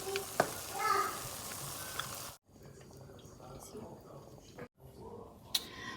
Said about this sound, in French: je mélange l'ensemble